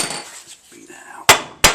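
Two sharp, loud hammer blows strike metal on a trailer part being beaten out, landing late in the moment after a stretch of low background noise and faint voices.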